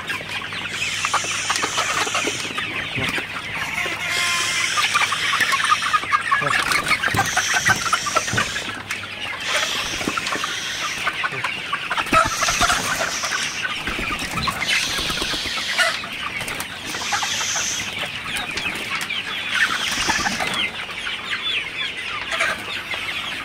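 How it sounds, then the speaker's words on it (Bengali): A flock of Sonali super hybrid chickens in a poultry shed clucks and murmurs continuously, many birds at once with occasional louder squawks and wing flutters, close and loud, no talk over them. "মুরগিগুলা ঘরের কোনা দিয়ে একটু তাড়াই দিতে হবে, অনেক মুরগি আসে বসে থাকে"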